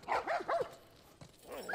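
A dog in The Last of Us Part 1 gives a couple of quick barks and yips, close and moderately loud, followed by a short pause and another yelp.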